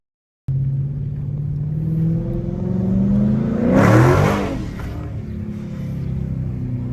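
A Chrysler 300 with a 5.7 Hemi V8 rumbles loudly and revs up to a peak while sliding a corner, then eases back to a steady growl.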